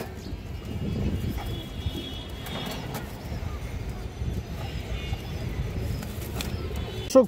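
Pigeons, including a large old-breed China Khaki male, coo in a dense low murmur throughout, with faint chirps and rustling nearby and brief talk in the background.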